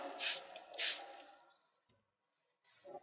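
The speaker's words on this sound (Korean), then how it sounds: "지금 스프레이하는 물은 초순수입니다." Two short hissing bursts of ultrapure water spray from a nozzle, close by, onto aluminium being prepared for anodizing, followed by near silence and a faint rustle.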